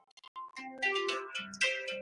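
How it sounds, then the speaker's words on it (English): A phone rings with an incoming call during a conversation, giving a bright, melodic electronic ringtone of rising tones that plays alone at moderate loudness with no talk over it. "a phone call coming in."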